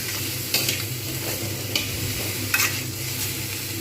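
Vegetable chorchori with drumsticks and flat beans frying in a pan, a constant close sizzle broken by a few scraping stirs spaced about a second apart, no one speaking.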